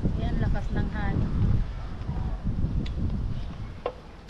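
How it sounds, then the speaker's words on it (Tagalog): Strong wind ahead of a typhoon in Taiwan roars steadily against the microphone in a low rumbling buffet, with a voice briefly speaking over it near the start. "lakas ng hangin"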